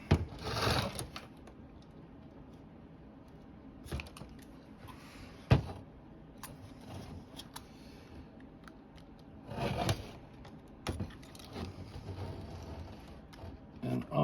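Blade cutting through an aluminum camper window's rubber gasket on a vintage Jayco camper, soft scraping and crunching cuts in uneven bursts with quieter gaps, close and fairly faint.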